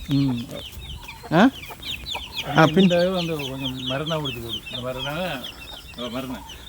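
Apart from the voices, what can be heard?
chickens clucking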